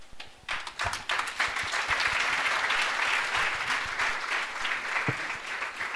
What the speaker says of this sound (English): let's clap for my...